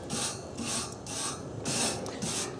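A wire brush scrapes heated barbecue grill grates in five quick, rhythmic rasping strokes, close and moderately loud, with no talk.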